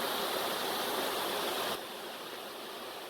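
A mountain stream at Thanh Long on Núi Cấm rushes in a dense, even wash of flowing water, steady and close, dropping slightly in level partway through, with no voices.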